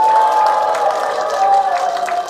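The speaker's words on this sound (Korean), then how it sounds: "이렇게 박수를 열심히 잘 쳐주시" A seated audience at a panel discussion on disability health rights claps steadily, a dense, even patter of applause that holds at a constant level throughout.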